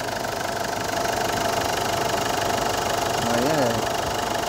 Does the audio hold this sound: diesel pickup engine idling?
yes